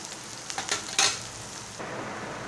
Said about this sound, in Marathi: कांदा आणि मिरची थोडी तेलामध्ये आपण भाजून घेऊया